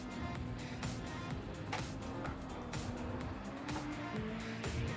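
Alfa Romeo 4C engine in the Gran Turismo 7 racing game, a steady droning note with a faint rising tone and a few sharp transients, running continuously at moderate volume.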